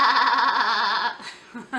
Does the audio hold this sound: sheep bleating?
yes